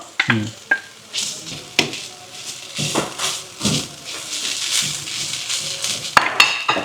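Fresh grated coconut fries in oil in a pan, giving a crackling sizzle broken by repeated scraping and clattering as a metal spoon stirs, close and fairly loud, with no voices.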